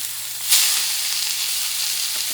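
Bison sirloin steaks drop into hot olive oil with a sudden burst of sizzle, then fry in a steady, close, hissing crackle.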